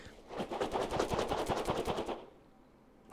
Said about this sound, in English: that just sounds like airsoft